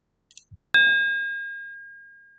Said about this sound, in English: It's almost like a bell when you get up here.